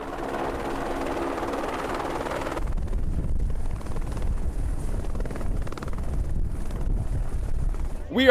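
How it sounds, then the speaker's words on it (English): Helicopter on the deck of an aircraft carrier floating at sea off San Diego, a loud steady rotor and engine roar with wind buffeting, dominating throughout, with a brief burst of talk at the start. "There is a helicopter at the end of this thing that Tom Cruise landed on."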